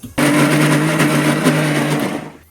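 An electric mixer grinder whirs loudly as it grinds corn kernels, starting abruptly and holding a steady high-pitched motor drone for about two seconds before spinning down.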